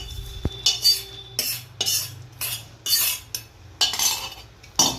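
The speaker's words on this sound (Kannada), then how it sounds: "ಈಗ ಇದನ್ನು ಹುರಿದಿಟ್ಕೊಂಡಿರೋಂಥ ಗೋಡಂಬಿ ತುಪ್ಪನೆಲ್ಲ ಇದರಲ್ಲಿ ಹಾಕ್ಕೊಳ್ತೀನಿ" A spoon clinks and scrapes against a metal pot as roasted cashews and ghee are tipped into freshly cooked pongal and stirred, giving several sharp, close metallic knocks in an irregular rhythm with quiet gaps between.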